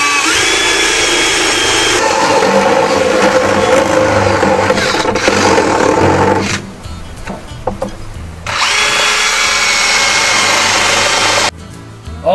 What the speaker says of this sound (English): So I'm using this step drill, and the reason being, when I drill through